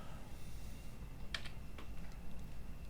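A computer keyboard is typed on in a short burst of a few quick key clicks, faint and close, over quiet room hiss with no talking.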